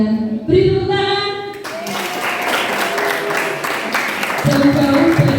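Junior high school students at a literacy and journalism training session break into applause, a loud crowd clapping that swells and continues steadily, with music and voices mixed in.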